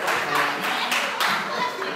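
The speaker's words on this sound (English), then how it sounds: "Everybody give the Holts a round of applause" Live audience giving a round of applause at an interview event, a brief burst of bright close hand claps with some voices, children's among them, mixed in.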